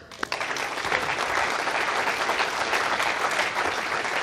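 A large crowd applauds steadily at the Vega VV02 rocket launch event, dense clapping that holds a full, even roar from start to finish with no voices breaking through.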